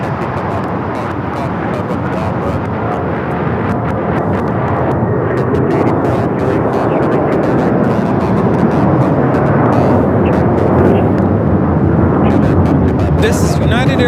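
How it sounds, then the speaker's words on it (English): United Airlines Boeing 757-300 taking off at LAX, a loud sustained jet roar that builds and swells over several seconds with rumbling low end, a voice faintly talking underneath. "This is United Airlines 1069 taking off to Chicago on the 757-300."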